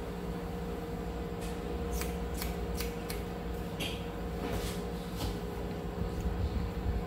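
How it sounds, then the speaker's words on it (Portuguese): Freshly sharpened scissors cut straight hair during a haircut, giving a series of light, crisp snips spaced irregularly over a steady background hum. "Mandei amolar minha tesoura, tá maravilhosa, olha só, cortando como um laser."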